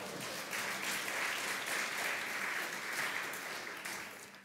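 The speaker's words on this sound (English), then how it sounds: "Give Roland a hand clap" A church congregation claps for a guest during a Sunday worship service, even hand clapping that swells slightly and then eases off, moderately quiet and heard without speech.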